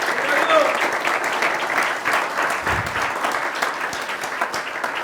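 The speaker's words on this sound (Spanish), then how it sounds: "Denle un fuerte aplauso al Señor entonces." A church congregation claps steadily and fairly loudly for several seconds, a dense continuous patter of many hands with a few voices rising faintly underneath.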